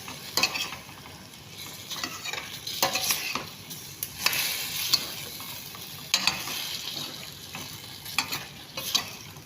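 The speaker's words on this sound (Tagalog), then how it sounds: "Haluin natin." A spoon stirs chicken adobo with baguio beans in a hot pan, scraping and sizzling in uneven strokes at close range, with no talk over it.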